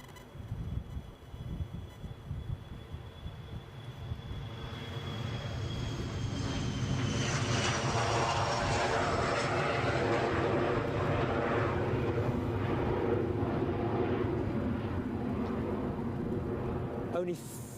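An Embraer ERJ 145 regional jet departs Edinburgh airport, its engine roar building from a distant whine to a loud sustained rumble, with a person talking over it.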